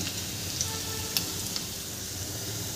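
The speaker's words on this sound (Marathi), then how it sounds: "आता लसूण पण छान होऊ द्यायचं आहे 2-3 मिनिटं।" Garlic frying in a pan for a Maharashtrian tondli (ivy gourd) dry vegetable dish, a steady even hiss of sizzling oil with a few faint crackles and pops, close and continuous.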